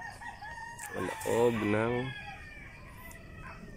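A Black Australorp rooster crows loudly once near the middle, with Black Australorp chickens clucking softly around it and a brief voice beforehand.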